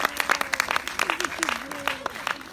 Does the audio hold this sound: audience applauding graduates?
yes